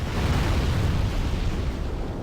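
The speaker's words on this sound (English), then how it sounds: "This is obviously the exploding barrels" Barrels explode in the Demon's Souls video game inside Stonefang Tunnel, giving a sustained loud, rumbling blast with dense low boom and crackling debris for a couple of seconds, no voices.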